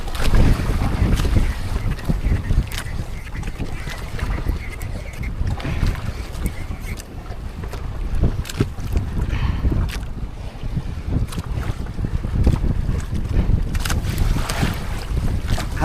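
Strong wind roars and buffets the microphone continuously, with splashing water and creaking of a boat underneath, no voices.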